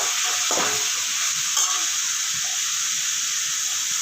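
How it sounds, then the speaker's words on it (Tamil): Onion chutney ingredients sauté in a pan with a loud, steady hissing sizzle, broken by a couple of soft stirring scrapes. "எல்லாம் சேர்ந்து நல்லா வதங்கட்டும்"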